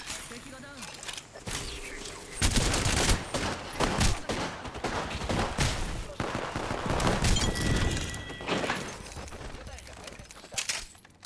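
Gunfire in Apex Legends, dense rapid bursts of shots cracking close and loud across several seconds, with a voice talking over parts of it.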